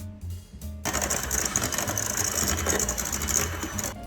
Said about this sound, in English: creaming together the butter and sugar